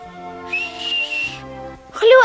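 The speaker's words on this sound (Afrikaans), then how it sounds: "En ek kan net so goed fluit ook soos hy." A child whistles a sustained, wavering tone over a soft musical background, holding the note for about a second before a brighter, rising whistle bursts in close and loud at the end.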